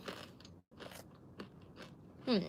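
Close, quiet crunchy chewing of food eaten with chili paste, a few irregular bites and mouth sounds separated by brief silences.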